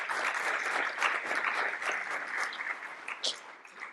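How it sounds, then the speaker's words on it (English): Sustained applause from an audience at an art talk, a dense wash of many hands clapping steadily for several seconds and easing slightly toward the end. "let's give them another round of applause"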